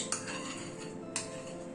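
A spoon scoops palm pulp into a bowl while making a Janmashtami palm-pulp batter, two bright metallic clinks about a second apart, close and clear over a quiet kitchen background.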